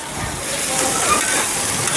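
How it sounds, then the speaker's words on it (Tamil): Tomatoes sauté in a pan at a restaurant kitchen, a loud, broad hiss of steam and sizzle rising slightly and holding steady, close by. "நல்லா வதங்கிருச்சு தக்காளி எல்லாம்."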